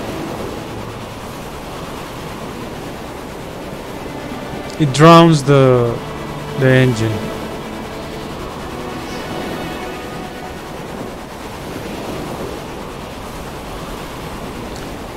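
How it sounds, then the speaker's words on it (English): Big ocean waves in the video game Stormworks wash in a steady, rushing surf that fills the whole stretch, with a voice speaking briefly over it. "And this is because we have big waves."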